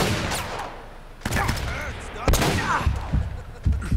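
Gunfire in the video game Uncharted: Drake's Fortune, a series of sharp loud bursts and scattered shots in irregular clusters, with brief quieter gaps between volleys.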